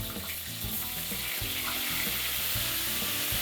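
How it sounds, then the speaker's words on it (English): Whisked yogurt with fennel seeds, cloves and cinnamon stirred in a hot pan, a continuous bubbling sizzle under rhythmic low scraping strokes. "We'll keep stirring it"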